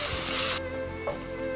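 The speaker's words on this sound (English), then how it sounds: "we're just going to let that cook until the onions turn golden brown" Onions frying in a pan for a paneer and mushroom Madras, a loud steady sizzle that drops sharply partway through, as if the heat or stirring changes, then continues quieter with a faint clink.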